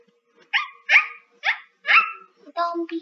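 A dog barks five or six times in quick succession, close and loud, with brief silences between the barks.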